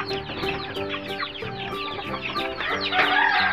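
Several Leghorn chickens in a backyard farm cluck and chatter close by, overlapping calls in a busy, continuous flock chorus with no talking.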